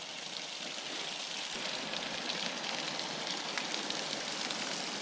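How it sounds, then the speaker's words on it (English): Steady, dense rush of water draining from storage tanks through a 1-inch valve outdoors during an atmospheric river storm, a constant hissing splash with no pauses and no voices. "So right now I'm draining the tanks."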